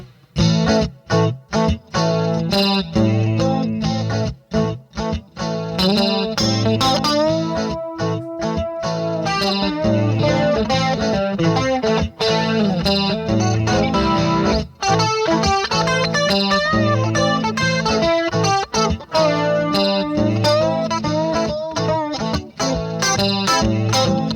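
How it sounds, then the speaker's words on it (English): A distorted electric guitar built from an automotive air cleaner plays a loud, driving riff with choppy chords and bent notes, heavy effects and no talking. "I just finished up this guitar that I made out of an automotive air cleaner."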